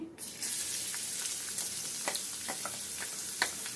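Chopped onions sizzling in hot oil in a pan for palak paneer gravy, a steady close crackling hiss with a few light stirring clicks and no talk.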